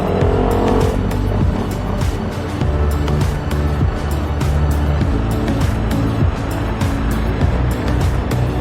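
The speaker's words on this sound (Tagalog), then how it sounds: "Yung street po na yan, may mga lumalabas na sasakyan." Cars passing along Delgado Street in Jaro, Iloilo, a loud, dense rumble of traffic with engines and tyre noise close by, continuous throughout with no talking.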